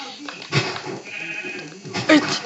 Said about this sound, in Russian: Овца, стоять, стоять, тупая овца.